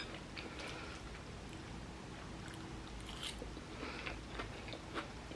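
Chewing a spicy vegan boxed mac and cheese up close, with repeated soft wet bites and crunchy mouth sounds continuing steadily throughout, no talking.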